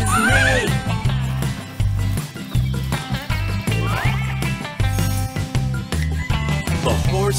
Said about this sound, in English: the horse goes neigh, neigh, neigh